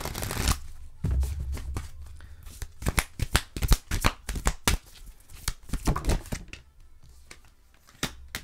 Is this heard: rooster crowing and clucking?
no